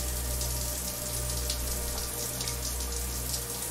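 Shower water runs steadily in a continuous close hiss and patter, even in level throughout, with no voices.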